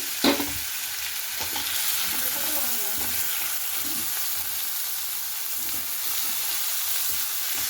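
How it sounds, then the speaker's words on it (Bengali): Boneless lote (Bombay duck) fish fries in a pan with spices, giving a dense, even sizzle throughout. A sharp knock of a spatula at the start is followed by light stirring scrapes. "মাছটা একটু ভাজা ভাজা হয়ে যাক"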